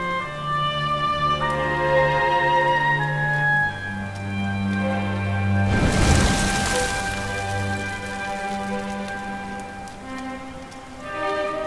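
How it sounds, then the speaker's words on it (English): Rain falls in the video game Dragon Quest XI S, a steady soft patter under sustained musical tones, with a brief louder wash of rain midway. "Looks like the rain's dying down."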